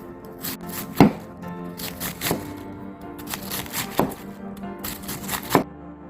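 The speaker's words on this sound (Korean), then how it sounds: "양배추 250g 채 썰어주겠습니다" A kitchen knife shreds 250 g of cabbage on a board, giving close, loud chopping strokes in uneven bursts with sharp thuds, and no one speaks.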